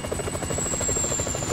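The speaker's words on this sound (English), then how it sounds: "Can you hear that? Chopper! Incoming!" A helicopter in Grand Theft Auto V drones steadily overhead, its rotor chop pulsing in a fast, even rhythm at fairly close range with no talk over it.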